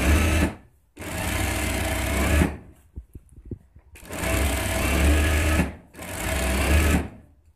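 A sewing machine stitches a neck strip on a ladies' garment in three loud, close, continuous runs. Short pauses between the runs carry faint clicks and fabric handling, and no one speaks.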